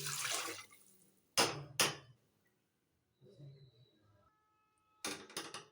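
Water is poured into cooked masala in a pot for brown basmati rice kuska. Several short, close splashing pours are separated by quiet pauses.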